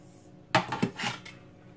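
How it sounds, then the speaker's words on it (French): Pistachio croquant dough being mixed by hand in a bowl, giving a few short, close knocks and scrapes against the bowl in quick succession after a silent start, with no talk. "je vais tout simplement mélanger à la main"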